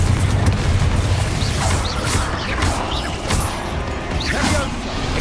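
Confringo fire spell blasting in Hogwarts Legacy on PC: a dense, loud mix of booming impacts, crashes and whooshing effects that continues throughout, with no voices.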